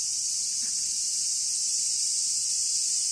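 Cicadas sing in the trees in Tokyo, Japan, a dense, steady high-pitched buzzing chorus that fills the whole stretch loudly and evenly, with no talking.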